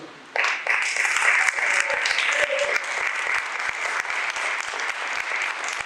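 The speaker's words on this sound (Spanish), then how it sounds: "Pero un fuerte aplauso a Jesús." A church congregation breaks into loud, sustained applause with scattered cheers, clapping continuing steadily for several seconds.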